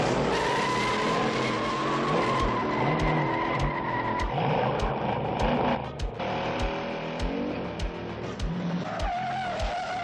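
Diecast toy cars race down a track to a loud, continuous roar of racing engines and screeching tires. Engine pitch sweeps up and down, broken by a regular series of sharp clicks and thumps as the cars run over track joints.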